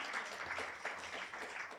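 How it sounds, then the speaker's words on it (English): Audience applause at a poetry reading and conversation event, a steady wash of many hands clapping at moderate distance, fairly quiet and fading slightly toward the end. "give him applause"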